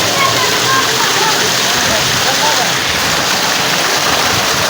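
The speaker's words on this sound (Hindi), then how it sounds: "तो चश्मे का पानी है" Spring water pours and splashes steadily in a continuous broad rush at an outdoor swimming spot in Pakistan, loud and close throughout.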